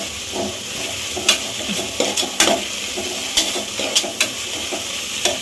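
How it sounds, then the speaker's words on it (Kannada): Ginger garlic paste fries in a pan for a fenugreek pulao, a continuous sizzle under repeated clicks and scrapes of a spoon stirring it. "ಇವಾಗ ಹಾಕಿ ಫ್ರೈ ಮಾಡಿದ್ರೆ ಫ್ಲೇವರ್ ಚೆನ್ನಾಗಿರುತ್ತೆ"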